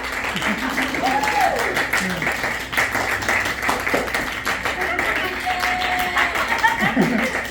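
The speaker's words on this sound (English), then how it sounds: "Everybody clap." Steady audience clapping fills the clip at a live comedy show, with scattered chuckles and voices mixed in from a crowd.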